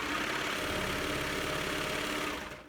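A serger stitching along the edge of a pillowcase, a steady, continuous mechanical whir running close and loud without pause, tapering off slightly at the end.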